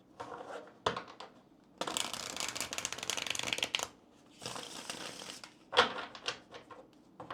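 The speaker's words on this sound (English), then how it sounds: "let me go and get a shuffle in here" Tarot cards are shuffled in several quick riffling bursts separated by short pauses, crisp and close, with a sharp snap or two between runs and no talking.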